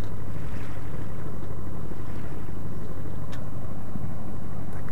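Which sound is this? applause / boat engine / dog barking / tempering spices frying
boat engine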